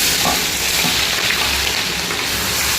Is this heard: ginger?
yes